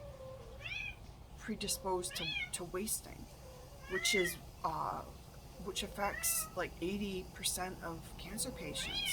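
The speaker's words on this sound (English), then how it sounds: "that's my cat meowing." A domestic cat meows repeatedly indoors, several rising and falling calls spread through the clip, fairly close, while a person keeps talking over them.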